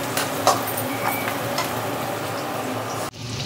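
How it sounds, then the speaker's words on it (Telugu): Onions and cumin seeds fry in a pan, a steady, loud, close sizzle with faint stirring scrapes, running unbroken before a brief dip near the end. "ఇందులో ఉల్లిపాయలు ఇంకా జీలకర్ర 2 వేసుకొని ఫ్రై"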